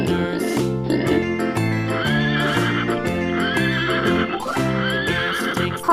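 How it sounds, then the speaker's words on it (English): A horse neighs and whinnies over a bright, rhythmic children's farm-animal song, with a few clip-clop beats mixed in, the whinny rising clearly above the steady music. "Horse."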